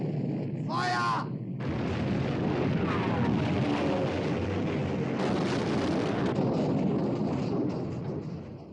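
Naval guns of a 1960 British warship aboard fire in a heavy, roaring salvo at sea, following a brief shouted order, with the loud blast rumble sustained for several seconds before slowly fading.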